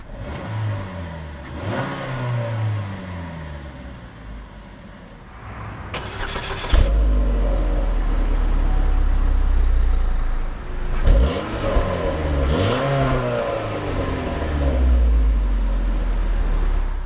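A 2012 Buick Verano engine revs repeatedly, its exhaust note rising and falling in loud, close bursts, with a deeper sustained surge in the second half and no talking.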